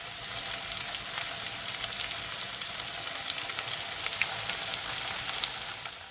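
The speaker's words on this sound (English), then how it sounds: "turn these over in the butter and cook them again for another 5-6 minutes" Potatoes fry in butter in a pan, giving a steady, dense hiss and crackle of sizzling that stays close and even throughout, with no voices.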